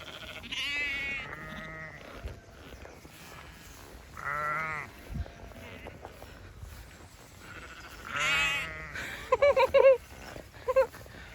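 Sheep on a trail along Hadrian's Wall bleat several times, loud and close, with long wavering calls spaced apart and a cluster of shorter bleats near the end.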